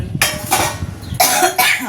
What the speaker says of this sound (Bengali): আমার আর কাশি ছাড়ছে না।